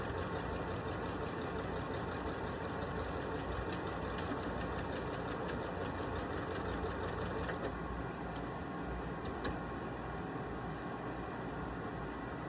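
Sewing machine stitching a tote bag, a steady continuous whirring drone that runs without pause, close and even in level, with a few small clicks toward the end.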